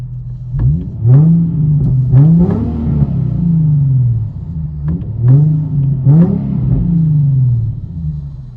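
A 2008 Infiniti G35 with a true dual exhaust and Flowmaster Flow FX mufflers revs repeatedly, its deep exhaust note rising and falling in several close, loud sweeps.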